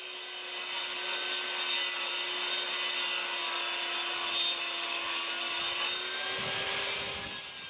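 A table saw slowly rips through hardwood-layered plywood, a steady sustained whine with a fixed tone holding throughout, close and loud, easing slightly near the end.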